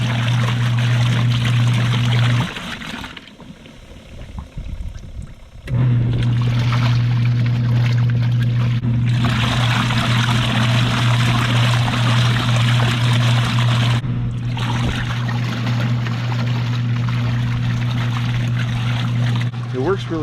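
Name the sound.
RV washing machine agitating water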